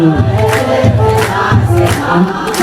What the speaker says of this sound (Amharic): እስኪ እልልታ ጭብጨባችሁን እህቶች በእልልታ ወንድሞች በጭብጨባ ከፍ አድርጉ